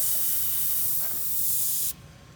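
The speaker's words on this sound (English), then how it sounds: "this is just a spray test to get an idea of what you're working with" An Infinity CR+ airbrush sprays paint onto white paper in a steady close hiss lasting about two seconds, then cuts off abruptly, leaving faint room noise.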